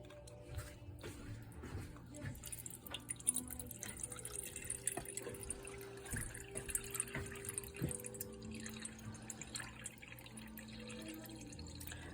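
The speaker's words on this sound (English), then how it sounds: "I'm going to measure out 297 grams of water" Ice water trickles and drips into a container in quiet irregular splashes, close by and faint, with occasional soft clinks and no voices.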